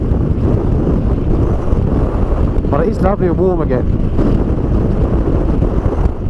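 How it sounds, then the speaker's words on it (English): Strong wind in Tenerife buffets the microphone on a Honda NC750X motorcycle ride in a constant low roar throughout, with someone briefly speaking over it. "Man, it's windy here, as I'm sure you can hear. It's absolutely blowing a hoolie across here."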